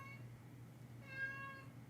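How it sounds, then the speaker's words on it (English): An indoor cat meows in a room, a single drawn-out meow in the latter half over a low steady hum, fairly faint and with no talk. "I got the cat in here meowing for no damn reason"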